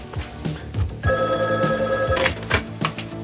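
A telephone bell rings once in a sustained metallic trill lasting about a second, set among scattered thumps and room sounds indoors.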